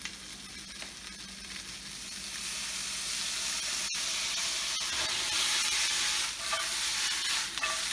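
Day lily flowers sizzle steadily in a hot pan, a continuous bright frying hiss that swells louder after a couple of seconds, with a few brief sharp clicks of a utensil against the pan.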